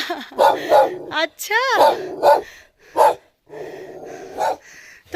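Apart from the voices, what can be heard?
dog barking at passersby on a mountain path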